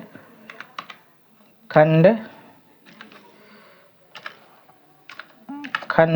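Computer keyboard keys clatter in short bursts as Hindi text is typed into MS Word, with someone speaking over and between the typing.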